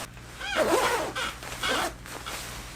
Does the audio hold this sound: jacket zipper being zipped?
yes